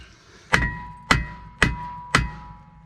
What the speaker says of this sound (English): a few good whacks with the hammer is always beneficial to getting off an old brake drum